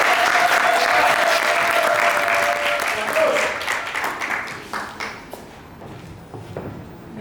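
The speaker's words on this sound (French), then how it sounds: "Sous vos acclamations" Audience applause and cheering at a book signing conference in Yaoundé, a dense loud wash of clapping that gradually thins and fades over several seconds, with scattered individual claps toward the end.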